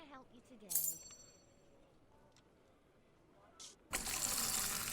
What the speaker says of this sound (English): That's a wonderfully poured pint.